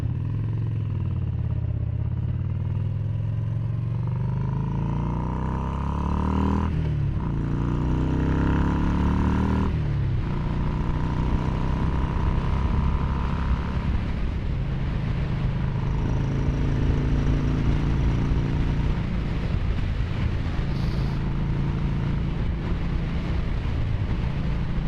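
A Yamaha Bolt 950cc V-twin motorcycle rumbles continuously as it climbs Bouquet Canyon Road, the engine note rising and falling through gear shifts under steady wind rush.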